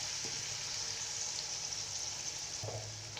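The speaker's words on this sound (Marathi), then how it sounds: "हा मसाला तेलामध्ये आपण आता मस्त याला फ्राय करून घेऊ" Ground masala paste for chole frying in oil makes a continuous, close sizzle. Two brief stirring knocks cut through near the start and near the end.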